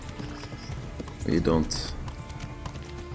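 Horse hooves galloping in the medieval video game Kingdom Come: Deliverance, a brief burst of rhythmic clip-clop with a whinny, heard under a talking voice and game music.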